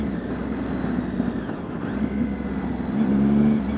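A Triumph Speed Triple ABS super naked motorcycle pulls hard, its engine and aftermarket exhaust droning loud and close with a rising, rough rumble under strong wind noise.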